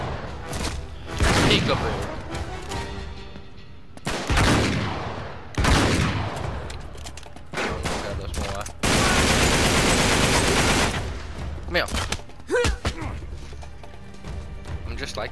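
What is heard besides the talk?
shotgun firing in the video game Uncharted 3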